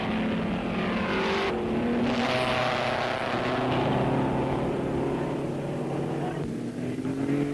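Racing cars from 1959 run on the Bathurst circuit along Mountain Straight, their engines making a continuous loud droning roar with shifting tones as they pass, sustained throughout.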